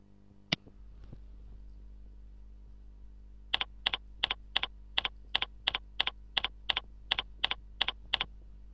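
Keys tapped on a computer keyboard while entering a password, about seventeen quick even clicks after a single sharp tap, close and clear over a faint steady hum with no talking.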